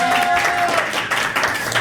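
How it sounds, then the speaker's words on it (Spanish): Applause breaks out to mark the 100th episode of a Spanish-language tech podcast, a dense, steady wash of clapping that runs the whole moment, with a faint voice mixed in. "Oigan, un aplauso."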